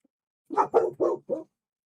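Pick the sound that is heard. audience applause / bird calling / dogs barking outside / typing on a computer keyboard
dogs barking outside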